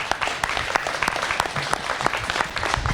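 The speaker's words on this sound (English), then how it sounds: "And let's one more time give a big round of applause to our honoree today, Officer Jonathan Hanson." Applause from an audience honoring a police officer at a law enforcement tribute, a brisk patter of individual claps, fairly close and steady throughout.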